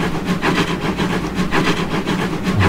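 A GWR class 32XX Barnum steam locomotive running in the Trainz simulator, a loud, steady rumble of wheels and engine with rhythmic rail beats repeating throughout, heard up close and alone.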